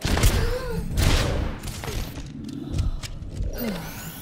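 Sniper rifle fire in the video game Overwatch: a few sharp, punchy shots spaced about a second apart, heard over a busy bed of game effects and rumbling action.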